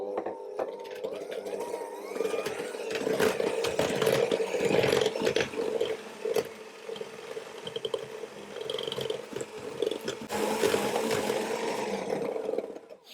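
Electric mixer beating egg yolks one at a time into creamed butter cake batter, a steady close whirring hum running through with clattering bowl knocks and brief pauses.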